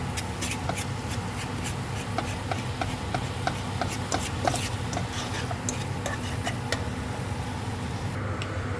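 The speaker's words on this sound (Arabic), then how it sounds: "مع التقليب" Minced meat and onion being stirred in a pan, a steady run of scraping, tapping fork strokes against metal with a soft frying hiss underneath.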